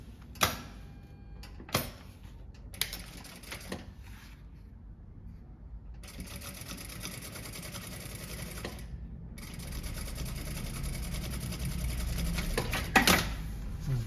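A sewing machine runs in short bursts, then in a long steady run, closing the bottom seam of a tote bag with a printed synthetic panel and lining. The stitching is close and mechanical, broken by brief pauses and clicks.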